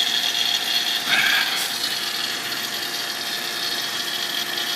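An HVAC vacuum pump evacuates the system on a service call, giving a steady, fairly loud mechanical drone with a bright buzzing hiss that runs unbroken and alone throughout.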